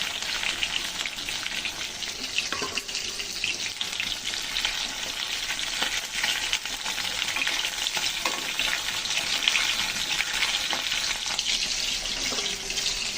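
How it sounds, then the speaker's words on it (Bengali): Hilsa fish pieces frying lightly in hot oil give a steady, dense sizzle that runs unbroken throughout, with faint spoon or spatula movements now and then. "এই পাশটাও আমি হালকা করে ভেজে নেব"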